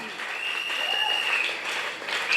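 A church congregation applauds during a French-language service, a steady, dense clatter of clapping hands that lasts the whole moment, with a voice heard over it.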